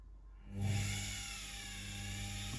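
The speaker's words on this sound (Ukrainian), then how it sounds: "Ось так працює. Збавляю оберти на 0, чекаю поки двигун зупиниться, тільки потім перемикаю реверс." Washing machine collector (brushed) motor driven through a speed controller with reverse, whirring up from near silence into a steady high-pitched electric whine with a low hum underneath, close and continuous.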